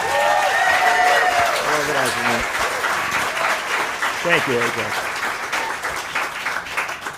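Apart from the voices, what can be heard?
audience applause for an event organizer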